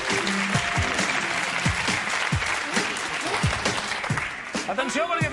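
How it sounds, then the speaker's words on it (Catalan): A TV studio audience on a Catalan game show gives loud, sustained applause, a dense steady clatter of clapping with a voice rising over it toward the end. "Atenció, perquè tenim amb nosaltres un fort aplaudiment per Melcior Mauri!"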